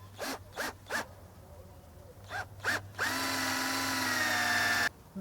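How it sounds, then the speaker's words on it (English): A power drill drives screws into a wooden swing set, one sustained whirring run after several short tool bursts, close and fairly loud with no talk. "now it's time to drive in a couple of screws"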